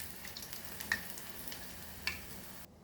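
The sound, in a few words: prawn tempura frying in hot oil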